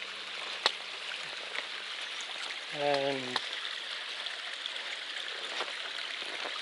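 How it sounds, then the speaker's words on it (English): A woodland brook along the Appalachian Trail flows steadily, a soft continuous wash of running water close by, with a brief spoken word and a few footsteps over it. "How about this brook?"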